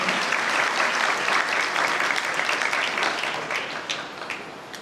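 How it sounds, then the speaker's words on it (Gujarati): An audience applauds at an honouring ceremony with dense, sustained clapping that stays loud and steady before slowly thinning toward the end. "તાળીઓથી વધાવી દઈએ સ્વાગત સન્માન અને અભિવાદનને."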